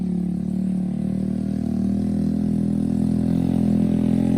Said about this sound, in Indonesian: ternyata suara tadi adalah suara ojek guys